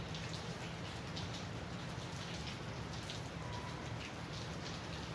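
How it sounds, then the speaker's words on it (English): Steady rain falling outdoors on a rainy day, an even, dense hiss of drops pattering on surfaces, fairly quiet and continuous with no voices. "Rainy day."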